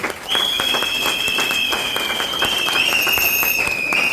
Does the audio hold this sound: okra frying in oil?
no